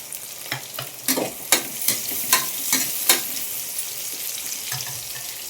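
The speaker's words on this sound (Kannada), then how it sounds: "ಈರುಳ್ಳಿ ಸ್ವಲ್ಪ ಚೆನ್ನಾಗಿ ಫ್ರೈ ಆಗಲಿ. ಅದಾದಮೇಲೆ ಕ್ಯಾರೆಟ್ ಹಾಕ್ಕೊಳ್ಳಿ." Onions and carrots fry in a pan while a spoon scrapes through them in a steady series of sharp, loud strokes over a bright sizzle, with no talk.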